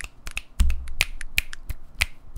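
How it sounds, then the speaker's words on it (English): Crisp finger snaps ring out one after another at an irregular pace, close and fairly loud, with no talking over them. "do we do like the finger snaps at the end of it?"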